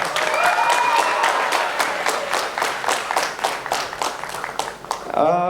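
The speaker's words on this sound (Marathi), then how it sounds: "ऑडियन्सनी पण खूप छान साथ दिली, त्याच्याबद्दल त्यांच्यासाठी एकदा टाळ्या वाजवा" An audience claps together in a steady, even rhythm, loud and close, at a quiz show, with a voice heard briefly at the beginning and end.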